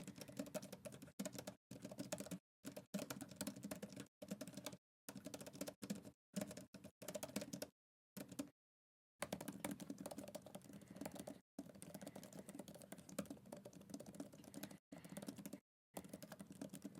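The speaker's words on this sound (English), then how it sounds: "Let's do a quick typing test on both of these." Keys clatter in quick bursts with short pauses between them during a typing test on an Apple Magic Keyboard and a Logitech Combo Touch tablet keyboard, close and fairly quiet, with no talking.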